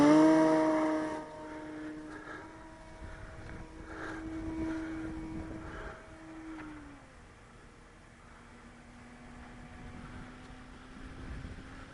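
A FLEX Innovations Cessna 170 RC model airplane on a 6s 4000 battery flying overhead, its motor a steady buzzing drone that fades after a louder start, with wind noise and no talking.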